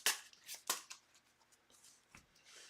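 Playing cards are shuffled during a tabletop card game: a quick series of close, crisp riffling bursts in the first second, then softer scattered card handling.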